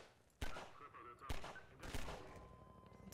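Gunfire rings out in the video game Half-Life 2, with a few loud, abrupt shots and their echoing decay. Someone speaks quietly in German between the shots.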